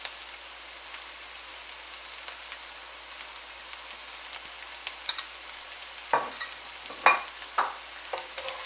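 Chopped onions with saffron strands frying in a pan, a soft continuous sizzle with a few louder stirring scrapes and clatters near the end, close by and without speech.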